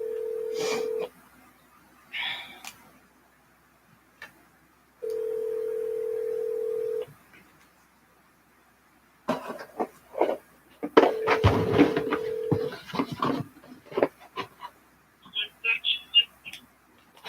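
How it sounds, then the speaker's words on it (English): A phone ringback tone sounds in two long, steady bursts separated by a pause, then voices talk back and forth over the line. "I'm gonna call my sister."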